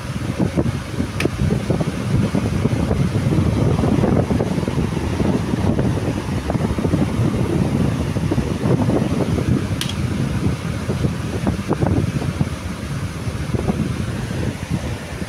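A steady, strong rush of blowing air with a low broadband roar from a National electric desk fan on a higher speed setting, continuous and close, with no speech.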